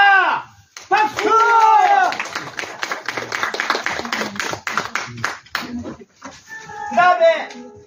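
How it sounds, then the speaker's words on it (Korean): Audience at a magic contest breaks into brisk clapping after a trick, a dense patter of hands between loud voices that call out at the start and again near the end. "박수!"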